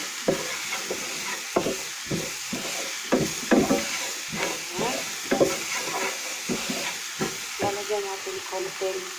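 Pork sisig seasoned with black pepper is stirred in a hot pan, giving repeated scraping strokes at an uneven rhythm over a steady sizzle, close and moderately loud.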